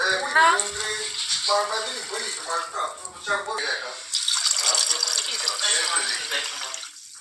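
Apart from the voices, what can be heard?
water poured into pot with rice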